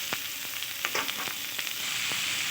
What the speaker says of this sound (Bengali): দিয়ে দেব ক্যাপসিকাম আর টমেটো। এবার এভাবে কিছুক্ষণ আমি কষিয়ে নেব।